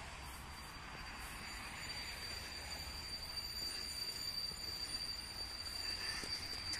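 A train locomotive rolls in to a platform at Olsztyn Zachodni station, Poland, at a distance, with a low steady rumble and a thin high wheel squeal, fairly faint and continuous.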